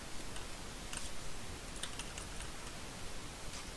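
Computer keyboard typing comes through as scattered light clicks and taps, faint and irregular under a constant background hiss.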